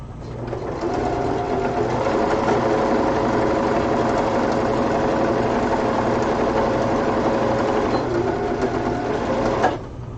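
A sewing machine stitching fabric for a cosplay costume, a loud, close, steady motor whir with rapid needle clatter that runs continuously for about nine seconds before stopping abruptly.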